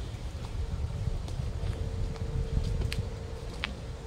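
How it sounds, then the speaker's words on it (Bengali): Wind sweeps through tree leaves at Chintamani Kar Bird Sanctuary near Kolkata, a steady low rush and rustle that holds at an even level throughout, with no voices. "আর সুন্দর একটা হাওয়া দিচ্ছে"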